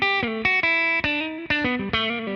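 Electric guitar played direct through a capture of a 1967 Twin Reverb amp, no pedal: six clean strummed chords ringing out with full, round low end, each struck sharply and left to sustain, loud and alone.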